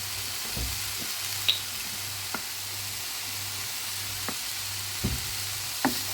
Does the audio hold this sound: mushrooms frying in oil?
yes